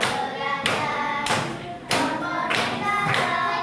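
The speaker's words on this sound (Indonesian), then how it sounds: "Yang sudah presentasi boleh sambil ikut tepuk ya." A group of children claps along to a song about the food chain, with a handful of sharp, evenly spaced claps and thuds landing roughly every half second, close and fairly loud.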